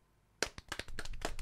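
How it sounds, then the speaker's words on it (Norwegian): Quick hand claps: a burst of sharp, close claps starting abruptly, then speeding up into a dense, steady run of slaps near the end. "Nå skal jeg vise deg at jeg kan klappe dobbelt så fort"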